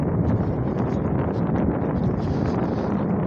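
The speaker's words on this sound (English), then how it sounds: "It's pretty windy out today." Wind blusters outdoors near a homeless encampment being cleared on 79th Avenue, a loud, continuous low roar of gusts buffeting the microphone with no breaks.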